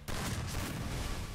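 Dense burst of gunfire in an esports shooter match during a KECS qualifier final, loud and continuous, a wash of shots with no clear gaps.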